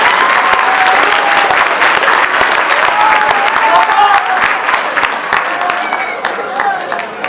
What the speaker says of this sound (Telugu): ఒక్కసారి వాళ్ళందరూ గట్టిగా చప్పట్లు కొట్టండి